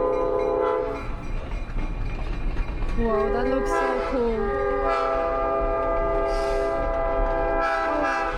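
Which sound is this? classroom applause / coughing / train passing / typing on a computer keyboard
train passing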